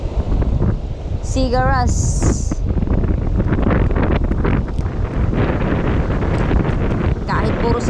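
Strong wind buffets the microphone on a fishing boat in rough, wavy sea, a loud continuous roar with water sloshing underneath, while someone talks over it throughout.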